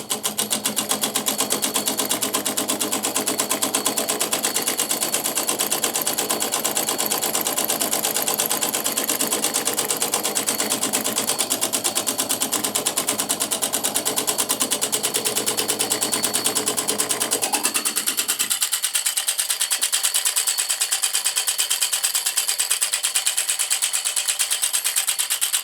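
A double solenoid electric model engine runs with a fast, steady buzzing clatter, loud and close, and then abruptly shifts to a thinner, higher chatter for its final stretch.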